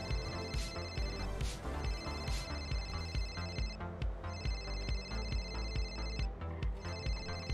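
An in-game phone in a GTA roleplay server rings in repeated electronic trilling bursts with short gaps, steady and fairly prominent over a low background hum.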